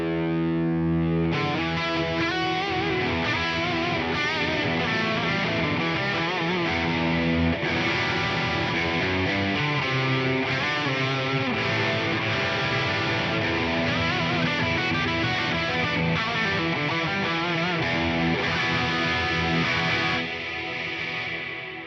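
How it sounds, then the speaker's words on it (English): Electric guitar played through an Eventide Blackhole reverb pedal with modulation and extra delay, producing a huge, washed-out, shimmering wall of sustained chords that swells and lingers continuously for about twenty seconds. "It is big, it is bold, it is brash, it is not designed to be a subtle reverb in here."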